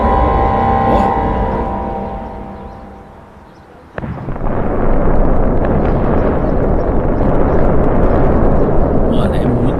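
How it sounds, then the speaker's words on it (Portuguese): Explosions from bombing in Beirut during a live war broadcast, a loud sudden blast midway that leaves a heavy rumbling roar, with voices talking throughout. "é muita bomba, velho"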